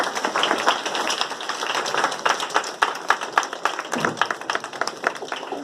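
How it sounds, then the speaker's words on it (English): Audience clapping at a science experiment lecture, a steady patter of many hands with sharper individual claps standing out, loud and sustained, ending in scattered claps. "You can clap for me."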